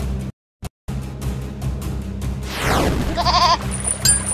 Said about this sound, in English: A goat!